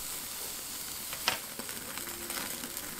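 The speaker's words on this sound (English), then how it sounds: "I'm gonna just go ahead and sear it for another maybe 30 seconds on each side" A T-bone steak sears on a hot grill with a steady, soft, continuous sizzle and a few faint crackles and pops.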